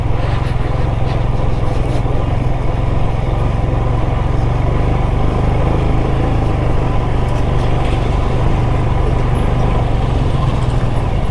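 Motorcycle riding a rough stone-laid mountain road out of Manali toward Chandigarh, loud constant engine drone and road and wind roar close to the rider, with heavy vehicle traffic sounds mixed in, steady throughout.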